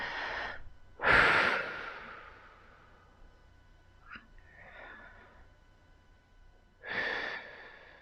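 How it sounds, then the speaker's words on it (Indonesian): Slow relaxation breathing to calm anxiety: a deep breath drawn in, then released gently through the mouth, repeated with long quiet pauses between the audible inhalations and exhalations. "tarik napas yang panjang, kemudian keluarkan perlahan-lahan lewat mulut"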